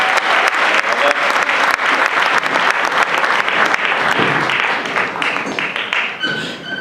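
Loud, dense crowd applause welcomes speakers to the stage at a comedy show, steady throughout and tapering slightly toward the end, where a voice briefly comes through.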